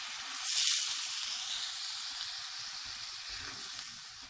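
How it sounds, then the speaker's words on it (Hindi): Red chillies fry in hot oil in a pan with garlic for a chilli garlic sauce, producing a steady close sizzle that swells briefly early on and then settles into an even hiss. "ये अपनी रेड मिर्चें डालेंगे। इसको मिक्स करके 1 से 2 मिनट तक पकाएंगे"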